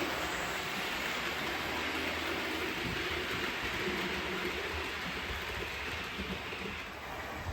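A model train of the locomotive Tornado runs steadily on its track with a continuous rushing, rattling rumble at a constant level and no voices.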